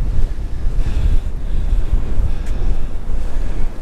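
Strong wind gusts over the microphone on a windy summer day at Uphill Marina, Weston-super-Mare, a loud continuous rumbling buffet that rises and falls, with no one speaking.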